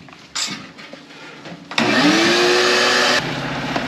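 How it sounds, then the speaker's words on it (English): A vacuum cleaner sucking up lint while cleaning an electric dryer and its vent. It starts with a loud, steady, close whine that rises in pitch as the motor spins up, runs for over a second and then drops off, with no speech. "We're going to vacuum this off, fire this up, and make sure it dries by vacuuming that up."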